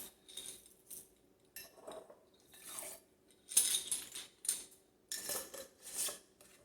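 Wheat grains for sprouting are poured and scooped into a glass jar, making intermittent bright rattling and tinkling bursts against the glass, fairly close and quiet, with no talking.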